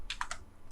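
A few quick keystrokes on a computer keyboard entering a value in AutoCAD, three or four close, light taps followed by a brief pause and one more faint press.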